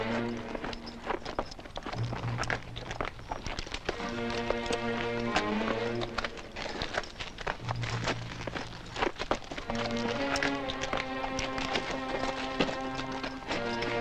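Horse hooves clip-clop at a quick, steady trot on hard ground, close and continuous, with faint higher tones drifting over the hoofbeats throughout.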